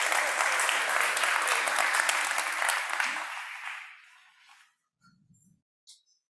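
An audience applauds with dense, steady clapping that fades out over a few seconds into near silence, followed by a brief murmur and a faint clink.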